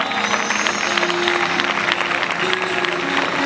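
Crowd applause at a bullfighting street contest (concurso de recortes) in Aldeadávila, a steady dense wash of clapping from a large audience with a few voices and whistles mixed in.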